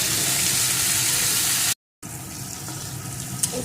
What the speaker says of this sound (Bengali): এখন উচ্ছেগুলো সুন্দর করে ভেজে নেব